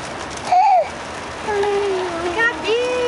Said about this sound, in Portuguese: agora tá até fraquinha a chuva que a gente pegou